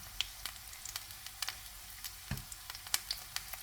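Lumpia spring rolls frying in hot oil alongside leftover dishes, a steady soft sizzle with scattered crackling pops and spits, close by and fairly quiet, with no talking.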